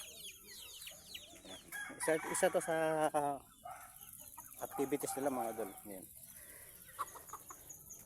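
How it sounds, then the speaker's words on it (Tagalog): Chickens cluck steadily while a rooster crows twice nearby at a campsite, with someone speaking briefly over the farmyard noise. "may mga alaga din silang mga manok dito"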